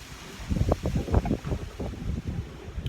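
Gusty wind buffets the microphone in low, uneven rumbling bursts, loud and close, with no talking.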